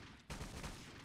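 Gunfire in the 50 Cent: Bulletproof game erupts after a brief lull into a dense, continuous burst of shots with rumbling low end throughout.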